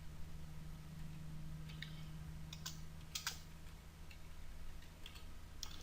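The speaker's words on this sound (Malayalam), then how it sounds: "ഞാൻ കുറച്ച് വരികൾ ടൈപ്പ് ചെയ്യുന്നു" Lines of text are typed on a computer keyboard in the vi editor on Linux, with irregular clusters of light, quick key clicks over a quiet room hum and no speech.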